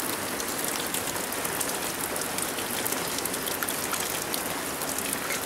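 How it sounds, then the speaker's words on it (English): Steady, dense heavy rain pours down without letup, a broad hiss of drops hitting surfaces, close and constant throughout. "I've never known it to rain so much."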